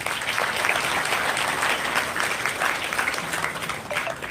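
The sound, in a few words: audience applause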